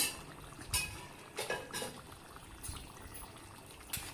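Pumpkin pieces dropped into a pot of mutton being braised, with a few soft clattering knocks and wet shuffling against the metal, fairly quiet and close.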